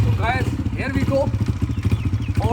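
A CF Moto 800 MT motorcycle engine idles with a steady, rapid thumping pulse, close and loud, while someone talks over it throughout.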